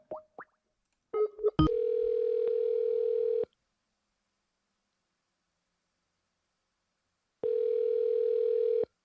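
A telephone call rings out before being forwarded: after a few brief clicks and tones, a steady electronic tone sounds for about two seconds, then silence, then the same tone again.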